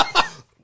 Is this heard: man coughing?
yes